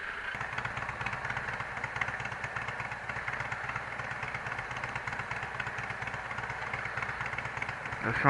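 Yamaha MT motorcycle, just repaired, idling in traffic at a red light, a steady low engine rumble running continuously throughout with a slight rise at the very end.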